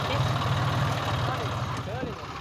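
Tractor engine running steadily while pulling a harrow through a field, a low continuous rumble held throughout with a voice talking over it.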